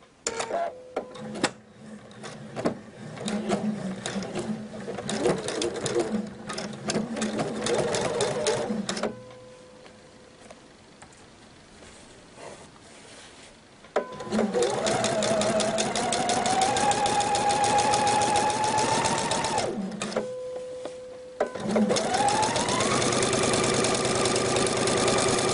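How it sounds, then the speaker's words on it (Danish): A sewing machine stitches a seam on a tunic shirt in bursts of fast rhythmic whirring, with a quiet pause between runs and a steady hum as it picks back up, close by with no talking. "Og jeg lægger simpelthen min syning lige en millimeter fra min streg."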